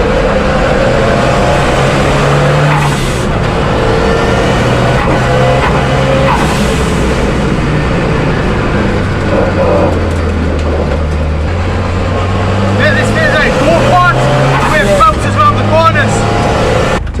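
A Ford Sierra Cosworth race car laps an empty track with a slight misfire and boost turned down, its engine droning loudly with rising and falling pitch through gear changes, plus some sharper crackles near the end.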